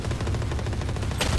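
Rapid gunfire from a weapon in the VALORANT video game, a quick burst of evenly spaced shots close up, ending in a sharper crack at the close.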